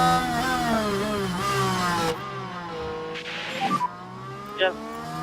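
An F1 race car in the F1 Manager 24 game whines at high revs, pulling alongside a rival and then braking hard into a corner as the engine note drops and downshifts blip, with a commentator-style voice talking over it.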